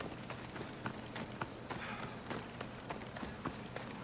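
Horse hooves drum in a steady galloping rhythm in the video game Assassin's Creed Odyssey, faint and even under a soft wash of game ambience.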